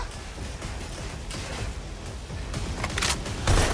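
Gunfire in the video game Watch Dogs: Legion, heard as a dense, continuous background of shots and bursts that builds toward the end, closing on a louder boom-like hit.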